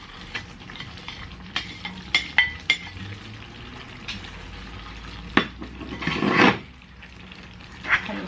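Filipino style chicken curry with carrots and paprika being stirred in a pan, with scattered clinks of a utensil against the pan, a soft sizzle underneath, and a louder scraping burst near the end.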